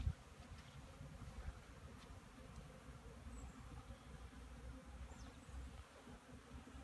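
Honeybees buzzing around hive entrances on a December day, a faint steady drone with a few individual bees passing close; quiet and without talk.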